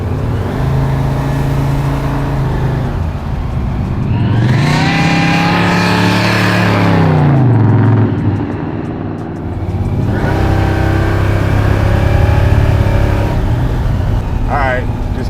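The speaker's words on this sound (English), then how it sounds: "I'm just careful about just pushing the gas on an 800 plus horsepower car" An 850 hp Chevelle accelerating from inside the car, its engine roaring up through the revs in loud surges, easing off and then pulling hard again, with occupants talking over the noise.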